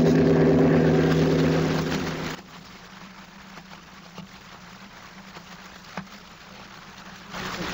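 Propeller airplane cabin drone in an old radio drama, a loud humming engine tone for about two seconds that then cuts off abruptly, leaving quiet background with faint clicks.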